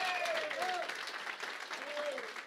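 Church congregation applauding in a dense, steady burst of clapping filling the room, with a voice calling out over it.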